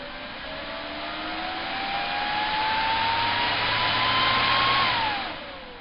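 A Miller 625 plasma cutter runs its shut-off sequence, blowing a steady rush of air with a rising whine that swells, holds, then drops and fades as it winds down.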